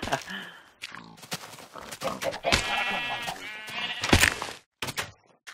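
Sheep in Minecraft bleat in several wavering, nasal cries, clustered near the middle and separated by short gaps, with a little talk around them.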